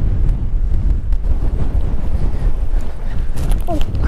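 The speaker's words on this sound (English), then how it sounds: "it's freaking windy" Strong wind buffets the microphone with a constant roaring rumble at a farm pond in spring, with a few faint clicks and rustles near the end.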